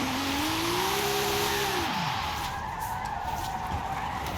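A 2012 Eagle Speedster with an AWD/RWD drift tune slides with a loud, sustained tire squeal that bends and falls away after about two seconds, followed by steady engine and road noise.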